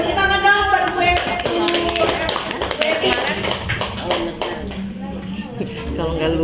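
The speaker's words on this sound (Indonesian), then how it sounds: "tepuk tangan dong buat Bu Eti" Applause for a woman at a business gathering, a group of hands clapping steadily and closely, fairly loud, with voices mixed in.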